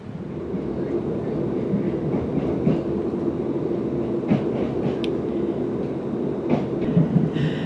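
A continuous rumble from inside a moving train, with occasional clicks and knocks from the carriage over the steady low drone.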